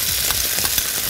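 Beef bacon fries in a pan with a steady, dense sizzle and crackle that stays even and close throughout.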